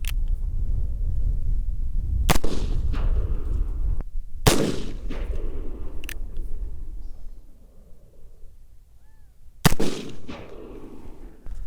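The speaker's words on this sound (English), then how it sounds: "Little hang fire there." Black powder rifle shots fired at long range, several loud sharp reports spaced a few seconds apart, one with a slight hang fire delay, ringing out over a steady outdoor background.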